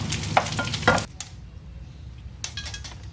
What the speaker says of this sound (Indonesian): Dan terakhir saya akan menggoreng ikan asinnya.